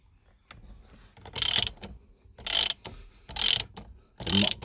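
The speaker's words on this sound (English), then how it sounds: "you'll need a 19mm socket with an extension and some sort of wrench to get this nut off" Ratchet of a wrench with a 19mm socket and extension working the steering wheel nut off a Nissan Skyline R33 GTS-T Series 2: four loud bursts of rapid ratcheting clicks, close up, separated by short quieter pauses.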